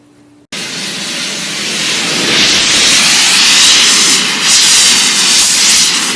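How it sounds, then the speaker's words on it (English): An acetylene rosebud torch lit for heating half-inch steel roars with a steady, loud broadband hiss that starts abruptly and holds near and constant, with no talk. "This is an acetylene rosebud."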